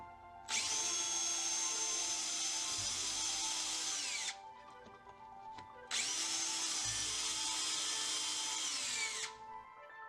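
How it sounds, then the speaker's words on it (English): A power drill with a 3/16 inch (5mm) bit whines in two long bursts, each several seconds, biting through a wooden cabinet drawer front with a steady high-pitched spin and brief pauses between. "drilling through the sub front using your drawer front as a jig with a 3/16 or 5mm drill bit"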